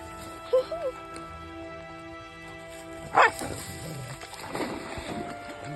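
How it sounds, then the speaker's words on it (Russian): Dog making a couple of short whining yips and a sharper bark-like sound, close by, over a faint steady background hum, with occasional soft handling noises. "Собачка."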